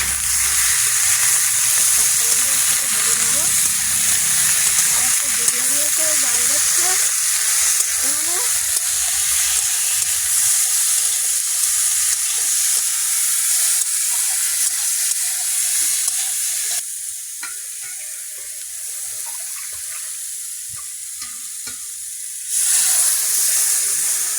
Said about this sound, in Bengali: আলুটা ভাজা